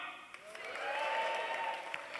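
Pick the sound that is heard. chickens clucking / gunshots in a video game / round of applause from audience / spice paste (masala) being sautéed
round of applause from audience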